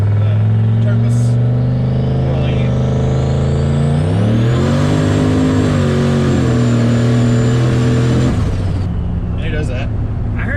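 A turbocharged truck with cam springs and turbos revs hard, its engine climbing from idle to a sustained high-pitched turbo whine with a spooling whistle, then dropping back, loud and close.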